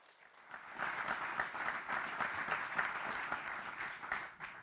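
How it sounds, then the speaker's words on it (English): Applause from the audience at the FIBA Under-19 Basketball World Cup 2025 draw ceremony, a steady round of clapping that rises quickly, holds for several seconds and fades slightly at the end, with no talk over it. "A big round of applause for them."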